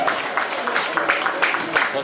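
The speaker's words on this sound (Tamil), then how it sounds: "கைத்தட்டி உற்சாகப்படுத்துங்க" An audience claps steadily through a Bharatanatyam dance performance, a dense continuous patter of many hands with a murmur of voices mixed in.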